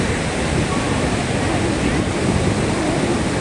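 Rough sea waves at a beach make a loud, continuous roar of surf, a dense wash of noise with steady wind on the microphone and no pauses.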